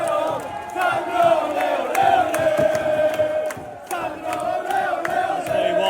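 A large football crowd at a Newcastle United match in South Korea cheers and chants without pause, loud and dense, with rising swells of voices.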